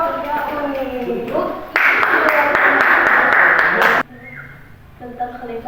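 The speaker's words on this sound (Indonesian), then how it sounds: "Tepuk tangan untuk kelompok kuning" A classroom group applauds a yellow team after its presentation, a dense burst of clapping lasting about two seconds, framed by a teacher's voice talking before and after.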